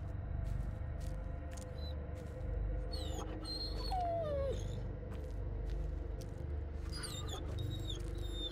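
Bullet, an injured dog in the Blair Witch video game, whimpers and whines in high, wavering cries that come in short bursts over a low, steady rumbling background, moderately close but quiet.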